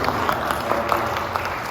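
Scattered applause from a church congregation during a Sunday service, a steady dense patter of hands clapping together at close range, with no voices standing out.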